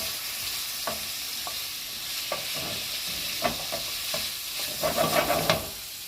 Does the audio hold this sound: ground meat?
yes